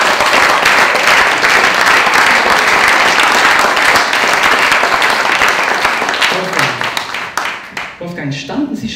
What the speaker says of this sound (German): kriegen einen riesen Applaus natürlich von den anderen.